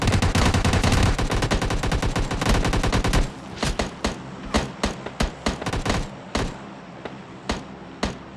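Loud gunfire in the video game PUBG Lite: a dense, rapid automatic burst for about three seconds, then a series of separate sharp shots at uneven intervals.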